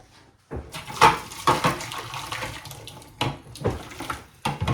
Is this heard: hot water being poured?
yes